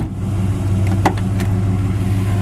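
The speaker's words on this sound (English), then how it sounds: "Show you how nice this door shuts." A 1964 Chevy Chevelle convertible door shuts once with a single solid clunk over a constant low hum of engine and background noise.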